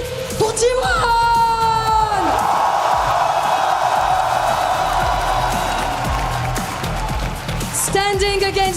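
A large League of Legends esports crowd at EWC playoffs roars and cheers loudly for T1, with yells and whoops rising over the din and a French announcer booming over a PA at the start and end.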